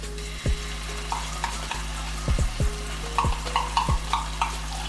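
Tomato paste fries in olive oil with onions and garlic in a pot, a steady close sizzle broken by several scraping stirs of a spoon against the pot.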